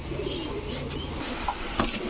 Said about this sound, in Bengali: প্রিন্স কামারগার মাত্র আট পরের একটা মাদি কবুতর